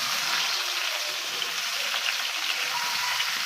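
Steady, dense sizzling of onions and green chillies sautéing in hot oil, continuous and close, with no talking.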